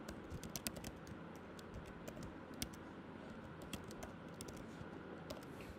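Typing code on a computer keyboard during a C programming session: steady, fairly close key clicks in quick irregular bursts under a faint background hum, with no talking.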